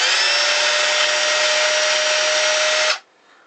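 A rebuilt Makita 5621 sheet wood saw runs with a steady, loud, high motor whine for about three seconds close by, then cuts off abruptly into near silence.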